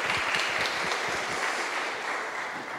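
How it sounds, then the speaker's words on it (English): Conference audience applauding to welcome the next speaker at a blockchain conference in Oxford, a steady broadband wash of many hands clapping at moderate distance, sustained and fairly even throughout. "Please give a round of applause to welcome Sam."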